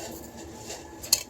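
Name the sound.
washing dishes, pots and pans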